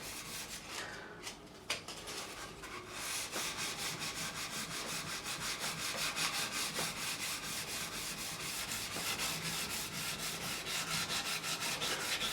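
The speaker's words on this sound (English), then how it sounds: "I'll get rid of that just using the edge of this sanding block" The edge of a sanding block is rubbed against fret ends on a Fender Stratocaster neck during a refret, producing a steady rhythmic scratching of quick, even strokes, close and alone.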